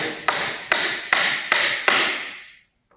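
Five sharp hammer blows drive nails into a wooden board while framing trimmer studs, evenly spaced and loud, each ringing briefly before the last fades into silence.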